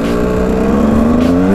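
KTM 125 EXC two-stroke dirt bike engine while riding, a loud, close, steady buzzing drone whose pitch climbs gradually as it revs, with no talking.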